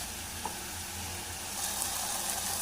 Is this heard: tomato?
yes